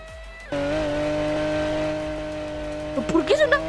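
A video game car's engine drones at a steady, sustained pitch after a sudden start, then bursts into a few quick rising revs near the end, with no talk over it.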